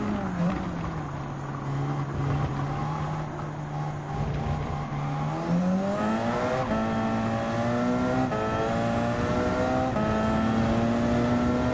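A Porsche 919 Hybrid race car in Gran Turismo 7 sustains a loud, high engine drone throughout, holding steady before climbing in pitch as it accelerates and shifting through gears, with a voice faintly beneath.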